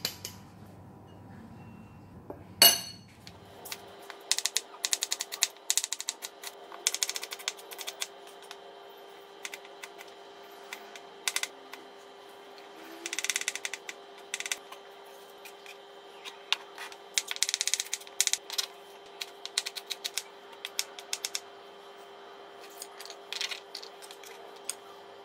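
Knife work on a board while crab curry ingredients are prepared, heard as irregular close clicks and taps in scattered bursts over a steady electrical hum, with no talk.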